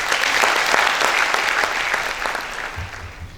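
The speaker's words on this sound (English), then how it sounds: "Could we please have a round of applause?" Loud, dense audience applause at a diocesan education society's Felicitation Day function, steady crackling claps that hold through and thin slightly toward the end, with no talk over it.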